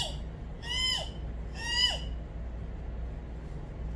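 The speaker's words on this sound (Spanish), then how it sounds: "Es un búho." An owl gives two similar hooting calls about a second apart, clear and moderately close over steady low background hum, with no speech.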